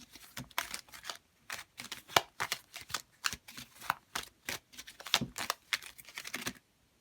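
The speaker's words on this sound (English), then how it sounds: "I know these are the worst to shuffle because of their shape." Tarot cards being shuffled, their awkward shape making it harder, come through as a close, steady run of quick papery riffles and flutters in short bursts, with no voices.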